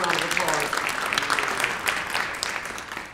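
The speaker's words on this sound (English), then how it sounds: "Ladies and gentlemen, let's give them a round of applause." Audience at a chamber of commerce political debate in Longmont gives a short, steady burst of clapping that fades out near the end.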